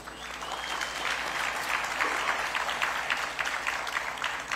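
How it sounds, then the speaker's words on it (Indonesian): Audience at a Suzuki Fronx car launch event applauding steadily, a dense, sustained wash of clapping filling the hall with a faint crowd murmur underneath. "Tepuk tangan untuk Suzuki."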